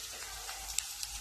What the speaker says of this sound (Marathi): आता आपण चमच्याने ढवळूया.